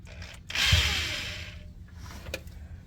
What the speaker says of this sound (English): That hitch is so thick, I don't think my drill bit's gonna reach.